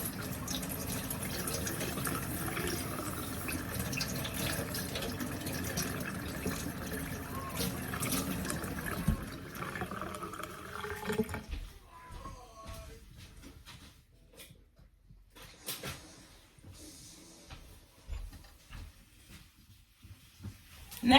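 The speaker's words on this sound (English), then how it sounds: "I'm going to take that back under my running water and clean it off really," Running tap water pours steadily over a cleaning implement, a dense, close gush for about ten seconds before it cuts off, leaving quieter handling clatter and faint room noise.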